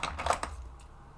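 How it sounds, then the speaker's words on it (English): Pencils rummaged in a container give a quick flurry of light wooden clicks and rattles, close and fairly quiet, over about a second. "Sorry if you hear me rummaging. I'm rummaging in my pencils."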